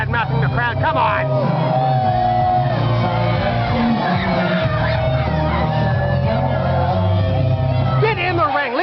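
A wrestling crowd shouts, yells and whoops loudly and continuously at a heel wrestler during a Kimba vs Prodigy match, with individual voices rising sharply above a dense roar.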